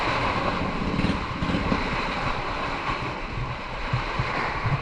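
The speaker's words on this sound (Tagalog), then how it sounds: "Malaki ng alon mga ka-brothers." Large sea waves churn and wash around a small fishing boat out on open water, with a steady, dense roar mixed with wind buffeting the microphone, continuous and close, with no voices.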